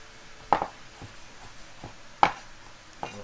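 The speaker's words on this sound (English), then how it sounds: "And I'm just going to cut it into slices, right?" A knife slices mushrooms on a cutting board: three sharp, separate cuts spaced well apart, close and fairly loud against a quiet kitchen.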